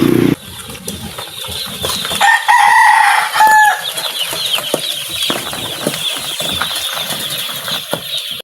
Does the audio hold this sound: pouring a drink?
no